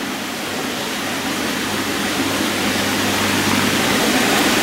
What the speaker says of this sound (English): there is the waterfall for that one